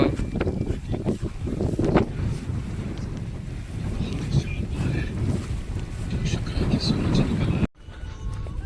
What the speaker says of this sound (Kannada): ಜಾಸ್ತಿ ಗಾಳಿ ಬಿಸಿರುತ್ತದ ನೋಡ್ಬೋದು ಎಷ್ಟು ಗಾಳಿ ಅದ